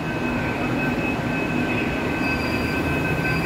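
Steady rumble of a Mumbai Metro train at a platform, with high electrical whines and hum, continuous and fairly loud, no voices.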